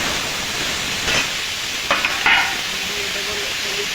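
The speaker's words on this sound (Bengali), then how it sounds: "লবণ, আলুটা একটু ভেজে নেব।" Potato pieces fry in leftover fish oil in a wok, a continuous close sizzle broken by several scraping stirs of a spatula.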